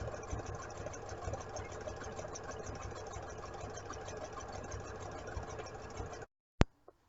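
A sewing machine runs steadily for about six seconds, stitching a half-inch seam along the presser foot edge on a raglan tee, then stops abruptly, followed by a brief sharp click.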